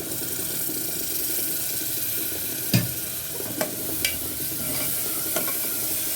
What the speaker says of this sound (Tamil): இதில் ஒரே ஒரு கரண்டி அளவுக்கு தயிர் சேர்த்துக்கேன்.